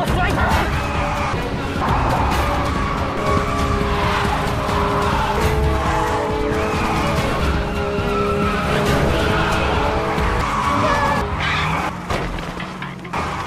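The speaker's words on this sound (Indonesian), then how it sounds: "Namun Wulin kemudian terjatuh karena mobil tersebut melaju dengan kencang." A car in a martial arts action film chase races off, with sustained engine roar and tire skidding mixed under dramatic music, loud and continuous before easing off toward the end.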